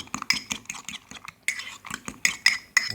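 A utensil stirs egg and cheese in a dish, with rapid metallic clinks and scrapes against the bowl in uneven bursts, close and clear with no voices.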